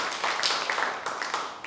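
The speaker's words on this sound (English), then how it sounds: "An applause for Your" Brief audience applause for a performer at a poetry slam night, a cluster of close claps that rises quickly and then thins out over a couple of seconds.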